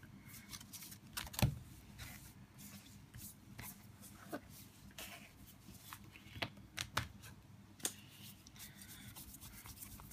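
A deck of Cardfight!! Vanguard trading cards being shuffled, faint rustling and riffling with scattered soft taps and rubs, close by and quiet.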